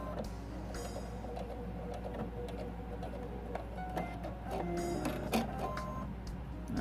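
A sewing machine backstitches on a towel, a quiet, steady mechanical whirring with faint ticks and clicks running throughout, and no voices.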